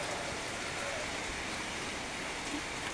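Heavy rain falls steadily as a constant dense hiss, moderately loud and close, with no clear voices over it.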